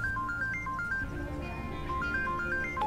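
A phone ringtone plays a repeating two-tone electronic melody, rings several times and stops unanswered, then starts again. It is fairly loud over a low background hum.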